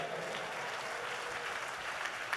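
A large crowd at a Christian religious convention applauds in a dense, steady roar of hand claps that holds evenly throughout.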